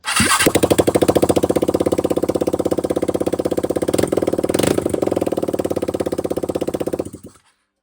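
A Vespa GTS300 scooter starts up and idles with a rapid, loud, throbbing beat close by, blipping its revs a couple of times before the engine cuts off abruptly.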